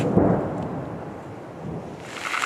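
Steady rain hisses with a low rumble of thunder underneath, forming a dense, continuous wash of storm noise, near the front line in Ukraine.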